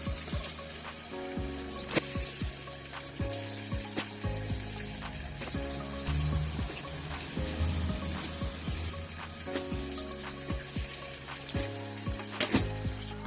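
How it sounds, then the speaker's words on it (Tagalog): Water sloshes and splashes steadily inside a washing machine, with irregular knocks and clicks over a low hum; no voices. "pinaikot ko na lang sa washing machine"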